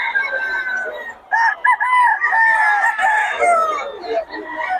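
Boston Roundhead gamefowl rooster crows loudly and close, a long wavering call with short breaks, with no voices over it.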